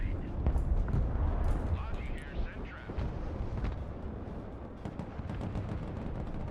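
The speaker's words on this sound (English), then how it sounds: "that is some nasty artillery right now" Artillery barrages from the real-time strategy game Broken Arrow rumble and boom in dense, overlapping low blasts that continue throughout, with speech over the top.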